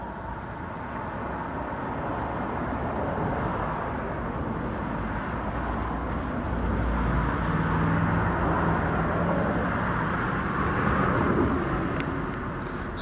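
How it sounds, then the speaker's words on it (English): Steady stream of road traffic rolling past close by, a continuous broadband roar that swells as heavier vehicles pass, with no talking over it. "Sorry, y'all, these cars keep coming."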